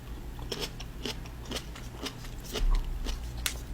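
Crunchy food being bitten and chewed up close, with repeated sharp crunching bites at an uneven pace and no talking, likely tomato alongside a steak dinner.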